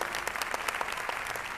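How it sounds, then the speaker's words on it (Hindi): An audience claps steadily in a brisk, dense burst of applause at a talk in Kolkata, loud and sustained with no voices on top. "उनके लिए जोरदार ताली होनी चाहिए"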